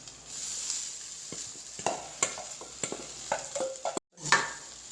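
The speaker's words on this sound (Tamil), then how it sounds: "அவல் மற்ற இன்க்ரீடியன்ஸோடு சேர்ந்து நல்லா கிளறி விடணும்." Poha being stirred in a pan with fried potatoes and spices: soft sizzling under scattered scraping strokes and spatula taps, close and fairly quiet, with a brief pause and then a clink.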